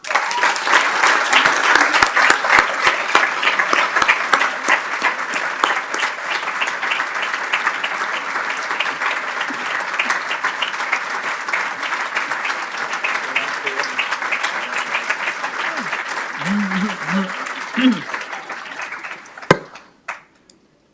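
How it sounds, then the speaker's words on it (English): Sustained audience applause at an awards ceremony, dense steady clapping from a large crowd that carries on for about twenty seconds before fading out. "Another round of applause for Courtney."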